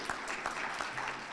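Audience applause at a white coat ceremony for a medical school intern class, a steady wash of clapping from a crowd filling the whole moment at moderate level.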